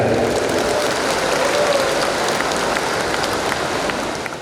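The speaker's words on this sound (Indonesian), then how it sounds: "Tepuk tangan dulu rekan-rekan" A crowd of officers and attendees at an outdoor police assembly in Malang applauds for the police chief, a dense, even wash of clapping that holds steady throughout and fades slightly at the end.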